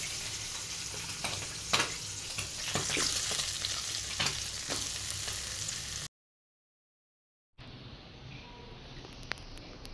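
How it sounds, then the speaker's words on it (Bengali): Potatoes frying in the same oil just used for frying fish, a steady close sizzle with stirring scrapes and clatter that cuts out briefly into silence, then returns as a quieter, thinner hiss. "সুন্দর করে লাল লাল করে ভেজে নেব"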